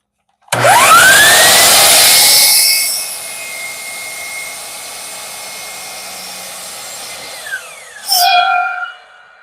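A power saw cuts a wood block with a loud, close whine and rising howl of the spinning blade, then winds down and briefly revs again.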